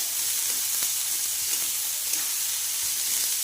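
Onions and green chillies frying in a pan for a bitter gourd dish, a steady, even sizzle throughout with a few faint stirring taps.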